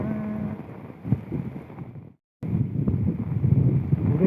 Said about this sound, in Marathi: फुल वारा पाऊस